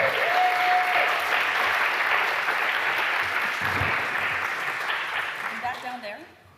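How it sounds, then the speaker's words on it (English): A conference audience at a design systems talk claps together in a loud, dense burst that holds steady, then tapers off near the end as a voice begins to speak. "Give a big clap."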